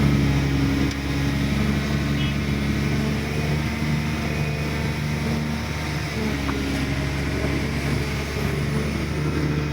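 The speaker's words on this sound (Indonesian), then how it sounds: "Maju nih dump truck." Dump truck rolling forward along a riverbank where an excavator clears rubbish, a steady low diesel drone with continuous broadband rumble and no distinct revs, heard mid-distance and alone.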